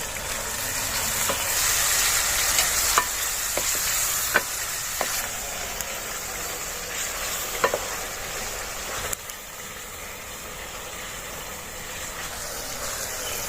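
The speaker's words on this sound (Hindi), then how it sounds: "जो हमने टमाटर और प्याज डाले थे वो हमने अच्छी तरह भून लिए हैं।" Tomatoes and onions fry in ghee with a constant bright hiss, broken by sharp scrapes and clinks as a utensil stirs the pan at irregular intervals.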